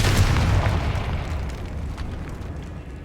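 A Confringo blasting spell in Hogwarts Legacy bursts into a loud, rumbling explosion that slowly fades away inside a decayed catacomb.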